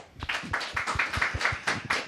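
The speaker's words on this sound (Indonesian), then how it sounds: "Boleh kasih tepuk tangan?" Audience members at a televised Indonesian talk show give a brief round of applause, a steady run of claps, moderately loud and close, with no talk over it.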